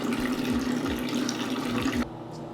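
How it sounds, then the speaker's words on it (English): A faucet runs steadily into a sink as a face is washed, giving a close, even rush of water with small splashes that stops abruptly near the end, leaving quiet. "After I've washed my face, you know, it's feeling tight now."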